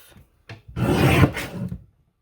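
Card stock is trimmed for a galaxy card, giving a few short close rasping slides along a trimmer, one longer stroke in the middle, with no voices.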